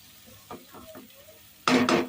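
Masala for mutton boti sautés and is stirred in a pan, with a few soft scrapes and then a louder burst of sizzling stir near the end.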